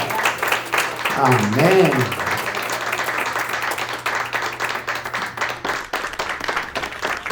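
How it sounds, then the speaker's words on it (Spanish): A church congregation claps and applauds in praise at a Spanish-language service in Miami Lakes, with dense, steady clapping mixed with a voice speaking and soft musical tones underneath. "Dele un aplauso al Señor."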